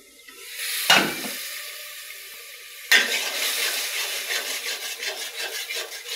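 Spices sautéing in a pan beside tilapia and taro stem cooking: a sharp sizzling clatter, a quieter pause, then another loud hit that turns into a sustained, crackling sizzle with stirring scrapes.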